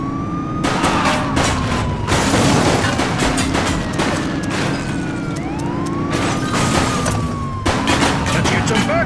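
In the police game The Precinct, bursts of gunfire rattle at a suspect vehicle while police sirens wail and rise over the engine rumble, with several loud bursts of shots spread across the scene.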